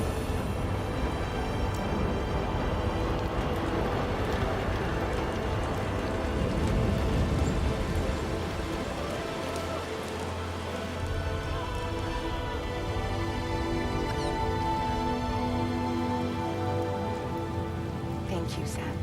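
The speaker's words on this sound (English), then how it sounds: "She can make it rain? No way." Steady rain falling in the video game Death Stranding 2, a dense continuous patter on surfaces with a low rumble and faint game music underneath.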